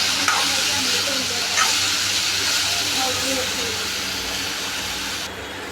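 Ridge gourd curry seasoned with salt, turmeric, garam masala and coriander-cumin powder sizzles steadily in a pan, with soft scraping stir strokes under a continuous hiss.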